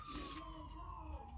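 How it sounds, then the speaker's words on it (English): An emergency vehicle siren wails faintly in the distance outside, a single slowly falling tone heard briefly under a low background rumble. "There's the siren."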